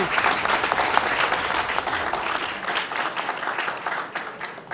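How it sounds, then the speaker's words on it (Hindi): Audience applause opening a televised chaupal talk show, a dense, steady wash of many hands clapping at close range, continuous and fairly loud throughout with no voices over it. "जोरदार तालियों से चौपाल का आगाज एक बार फिर से"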